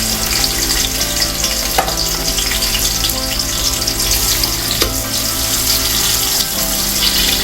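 Two large thinly sliced onions frying in hot oil with bay leaves for Hyderabadi mutton dum biryani, giving a steady close, loud sizzle with occasional stirring clinks throughout.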